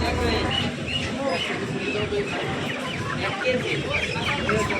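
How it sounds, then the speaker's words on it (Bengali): Chickens cluck at a busy market poultry shop, faint and scattered under a dense, steady wash of crowd chatter and bustle. "এসে পড়েছি মুরগির দোকানের সামনে।"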